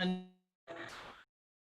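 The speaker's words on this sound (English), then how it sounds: "Gerard, can you mute your phone?" A phone notification sounds once, a short clear chime that rings and fades over about half a second, followed by a brief burst of broadband noise; no talk over it.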